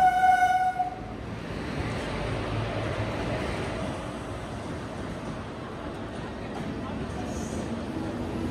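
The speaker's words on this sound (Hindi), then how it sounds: "ट्रेन आ गई" A train pulls into a station as a horn sounds briefly at the start, then a steady rumble and rolling of wagons continues at a moderate level for several seconds.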